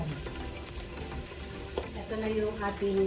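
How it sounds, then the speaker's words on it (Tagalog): Food sizzles and crackles steadily in a hot pan, with occasional stirring scrapes and faint background sounds. "Nagpiprito po ako"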